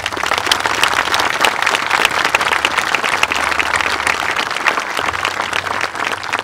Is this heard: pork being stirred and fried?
no